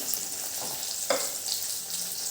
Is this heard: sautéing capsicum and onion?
yes